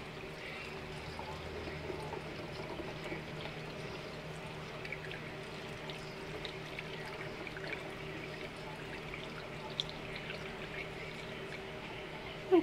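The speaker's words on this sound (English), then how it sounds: "Just gonna pour it into the bottle." Homemade wild garlic insect spray with essential oil poured into a bottle, a steady, faint trickling stream that runs unbroken for about twelve seconds, ending in a brief soft knock.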